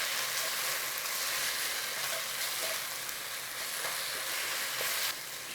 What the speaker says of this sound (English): it's advisable not to rush cooking the spices